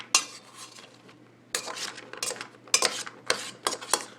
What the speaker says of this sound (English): So, stir them up real good there, buddy. Get around the edges.